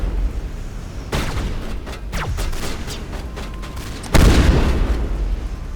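Heavy high-explosive rounds detonate in a video game, a string of booming blasts with a sharp, louder burst near the end. No voices.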